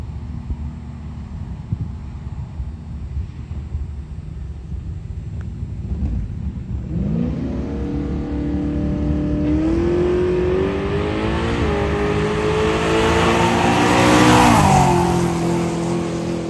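A nitrous-fed drag race car running nine-second passes launches and accelerates down the strip, its engine roar climbing steadily in pitch and growing louder, with wind buffeting the microphone.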